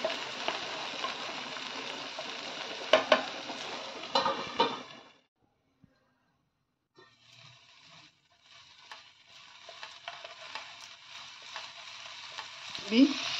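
Garlic, onion and ginger paste frying in oil for a Bengali fish curry, steady loud sizzle with spoon stirring and pan clinks, cutting out for a few seconds of silence before the sizzle returns more softly.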